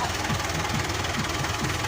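A tractor engine runs steadily close by, its low, even throb pulsing in a regular rhythm with a constant broadband rumble and no pause.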